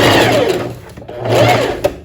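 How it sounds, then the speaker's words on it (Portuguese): A sewing machine backstitches a dart on a lined tailored vest, its motor whirring in two loud bursts with a brief pause between them. "Eu costumo dar um retrocesso."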